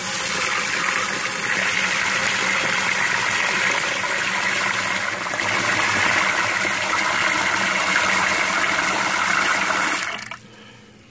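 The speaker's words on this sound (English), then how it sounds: "So I always start with rinsing the rice." Steady rush of running water pouring into a pot of rice for rinsing, for about ten seconds, loud and close, then cutting off abruptly.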